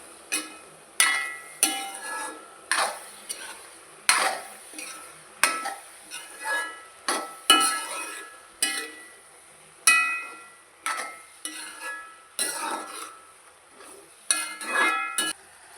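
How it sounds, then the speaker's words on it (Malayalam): A spoon stirs a coconut mixture with prawns in a covered pan: repeated close scraping and clinking strokes at a steady, uneven rhythm over a quiet background, with no talking. "തേങ്ങയൊക്കെ ഇട്ട് നമ്മൾ മൂടി വെച്ച് നമുക്ക് നന്നായി ഒന്ന് ഇളക്കി കൊടുക്കാം"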